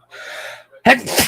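A sharp, close sneeze preceded by a breathy inhale, loud and sudden, ending with a short exhaled burst.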